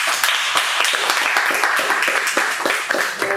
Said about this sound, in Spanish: vamos a recibir con un fortísimo aplauso